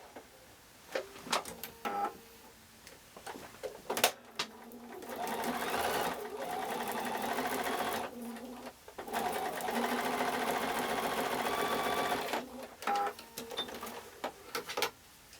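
A sewing machine stitches a quilt block seam in long steady runs of rapid mechanical whirring, loud and close, broken by pauses with clicks and handling sounds between bursts.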